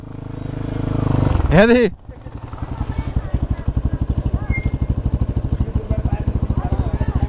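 A Crossfire motorcycle rides off-road in the Rolpa–Rukum hills, its engine thumping in a steady, even rhythm close by after a short voice and a brief whine at the start.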